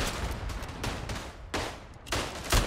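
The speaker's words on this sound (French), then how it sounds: "Hop, je tire mes deux bastos pour pouvoir attaquer là" Rifle shots crack out in Verdun, a First World War trench shooter, several loud booming reports a fraction of a second apart, each with a broad rumbling tail, amid a dense battlefield din.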